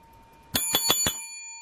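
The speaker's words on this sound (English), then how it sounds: "did I ring the bell for the hundo?" A bicycle-style bell is rung at a slot machine session to mark a win, giving four quick bright dings close by with a lingering metallic ring that fades out.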